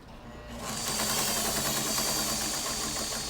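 A sewing machine runs a long straight stitch, its quiet, even mechanical whir starting after a brief pause and continuing steadily at close range.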